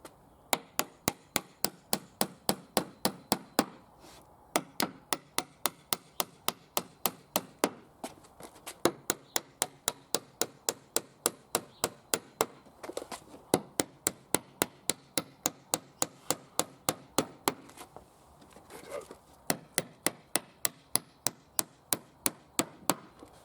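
Rapid, steady hammer taps drive nails into wooden feather boarding on external blockwork, sharp and close, in long runs broken by brief pauses.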